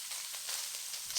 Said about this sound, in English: There is no need to add oil to fry this luncheon meat